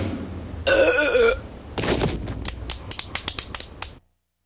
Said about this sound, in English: The burp champion of the world.